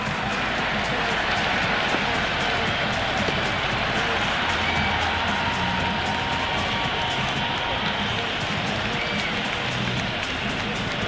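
Dense, steady roar of a stadium crowd cheering after a six in the Cricket 26 video game, KKR vs DC IPL match, a loud continuous wash of voices with commentary talking over it.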